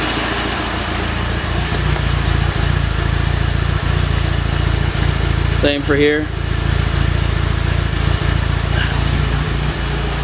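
A Mitsubishi Lancer Evolution V idles on a cold day, its exhaust giving a steady, loud low rumble, with someone speaking briefly over it.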